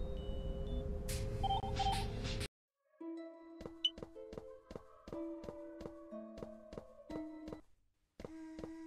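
A telephone ringing inside the horror game Misao, set in a cursed school: after a burst of game noise and a short silence, a series of sharp, regular electronic beeping tones repeats in a fast rhythmic pattern, close and clear.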